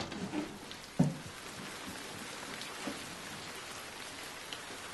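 Steady rain falls outside an open door onto a garden, a dense, even patter with a nearby knock-like drip and scattered close droplets standing out.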